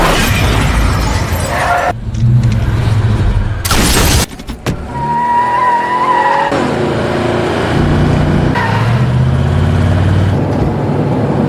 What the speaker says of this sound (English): their car is suddenly hit by another car driven by Magnus